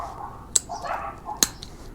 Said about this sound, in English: There's a lot of dogs here. Neighbors have like 30 dogs.